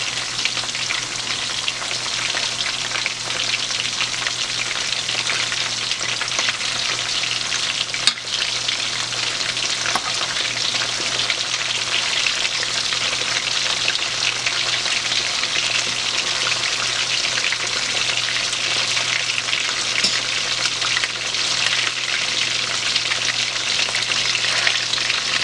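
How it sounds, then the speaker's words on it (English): Chicken frying in a pan as part of homemade macaroni and cheese, a dense continuous sizzle and crackle of hot oil, steady and close throughout with one brief sharp click partway. "it's been frying about 5 minutes on one side"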